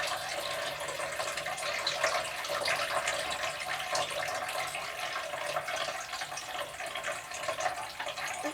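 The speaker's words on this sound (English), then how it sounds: "Just letting it drip back into the tray." Photographic fixer dripping off a darkroom print back into its tray, a steady liquid trickle and patter that holds at an even level throughout with no voices.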